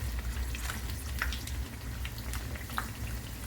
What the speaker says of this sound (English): We'll fry them further till the other side also gets golden in color.